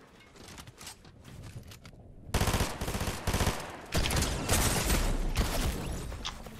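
Submachine gun fire in a video game, with quieter scattered shots at first, then loud sustained automatic bursts and rapid volleys packed densely through the latter half.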